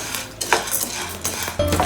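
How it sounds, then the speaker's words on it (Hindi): Wheat grains roasting in a pan on low flame give off scattered light popping crackles, a few sharp ticks over a steady frying hiss, close and moderately loud with no talking. "पॉपिंग साउंड आ रहा है।"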